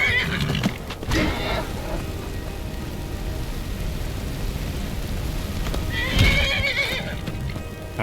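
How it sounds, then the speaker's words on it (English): A horse whinnies twice in the video game Skyrim, once near the start and again later, over a steady background of rain-like hiss. "Is Tolfdir attacking my horse?"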